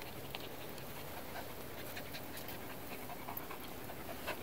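A dog pants steadily and quickly while out on a walk near water in nature, a faint, continuous breathy rhythm over soft outdoor background noise.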